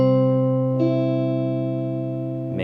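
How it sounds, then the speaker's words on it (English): A sustained major chord rings out on guitar, a single strum left to sustain and slowly decay, with a slight shift in the ringing tone partway through and no talking. "Here's a major chord."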